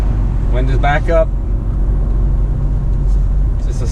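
Low exhaust growl from a 2019 Ford Edge ST V6 twin turbo with a Borla exhaust while driving, a steady soft rumble under a brief burst of talk at the start.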